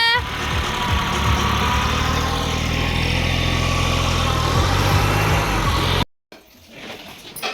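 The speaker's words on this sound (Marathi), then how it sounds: "इकडं आमचा भैया ट्रॅक्टर चालवतोय बघा" A farm tractor engine runs steadily at close range, a continuous loud rumbling drone that cuts out abruptly near the end, leaving quieter background noise.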